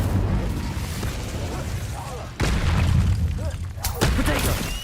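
Fire spells cast in the Hogwarts Legacy video game erupt as deep booming blasts, two sharp bursts landing about midway and near the end over steady game noise, with a voice faintly present.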